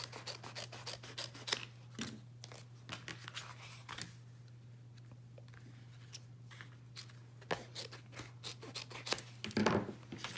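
Scissors snip through craft foam at a card-making table, a long run of short, close cutting sounds with a steady low hum beneath, no voices.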